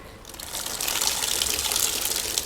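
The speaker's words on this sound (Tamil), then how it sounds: "இதை நான் உங்களுக்கு புழிஞ்சு காமிக்கிறேன்." Water gushes and splashes out as a car-wash foam sponge is squeezed by hand, a steady loud rush of liquid, close up, building over a couple of seconds, with no talk.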